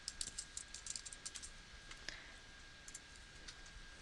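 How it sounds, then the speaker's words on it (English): Soft keystrokes on a Mac computer keyboard as a username is typed, a quick run of light clicks near the start thinning to scattered taps, faint and close with no one talking. "then type in your username"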